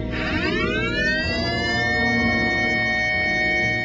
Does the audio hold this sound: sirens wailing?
yes